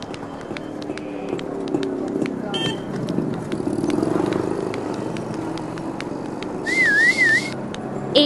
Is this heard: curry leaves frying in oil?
no